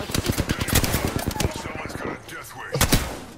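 Rapid bursts of gunfire in the battle royale shooter Apex Legends, a dense string of close, loud shots for about a second and a half, then a brief lull and a second short volley.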